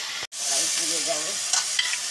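Potato and pointed gourd fry in a pan over a clay stove, a continuous sizzle broken by a brief gap and the scrape of stirring.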